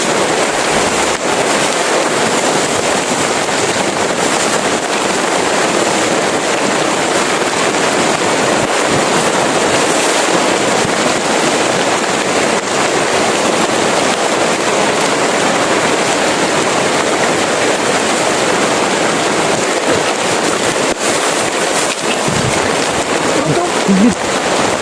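Heavy rain pours down in a steady, loud, unbroken hiss that continues through the whole stretch without any pause.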